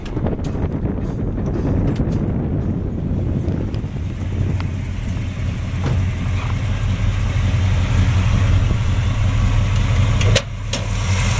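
A 1967 Chevy Chevelle SS 396 with the hood open, idling with a loud, steady low rumble and heavy wind buffeting on the microphone, plus a few sharp knocks near the end.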